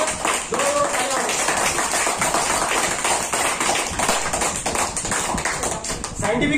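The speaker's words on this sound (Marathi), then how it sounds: "जोरा जोरात टाळ्या वाजवा" Students in a school classroom clap their hands hard and fast in a dense, continuous burst of applause that lasts throughout, with voices mixed in.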